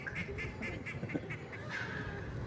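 A duck quacks in a quick, rhythmic string of about eight calls, then lets out a longer quack, all fairly faint.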